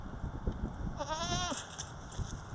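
Goats bleat on a farm in one clear, quavering cry lasting about half a second, set against a steady background hum and low rumbling noise.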